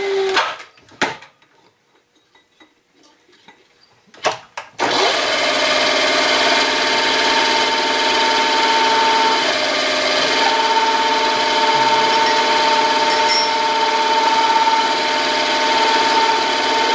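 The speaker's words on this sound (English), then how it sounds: "Drill and tap." A machine drills and taps a hole in a machined spline, starting after a few seconds of near silence and a couple of brief knocks, then holding a loud, steady whirring drone to the end.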